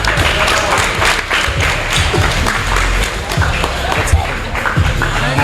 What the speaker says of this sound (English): how about a round of applause for these two competitors?